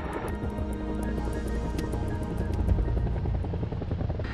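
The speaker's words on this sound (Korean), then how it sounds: "바로 헬기에 달린 블레이드 때문에 헬기가 가만히 있지 못하고 요동치기 때문이다." Cobra attack helicopter hovering during a military gunnery competition, its rotor blades producing a steady pulsing throb with a high whine above, distant-sounding and continuous, with no voices.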